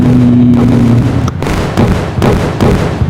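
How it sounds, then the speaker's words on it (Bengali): Bombs detonating in the Indian Bike Driving 3D video game, several loud, close booming blasts in quick succession over a continuous low rumble, with no one speaking. "এই তো আমি আর কয়েকটা বম লাগাবো ঠিক আছে এই তো এখন আমি এগুলো ব্লাস্ট করে দেবো"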